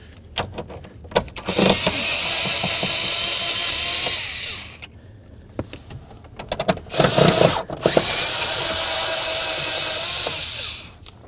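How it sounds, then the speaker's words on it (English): A power tool whirs in long sustained runs while backing out a steering column bolt on a 1994-2004 Chevy S-10, broken by short clicks and rattles of the tool and wrench between bursts, close and loud. "We're going to remove this bolt and then the one that's on the opposite side of the steering column."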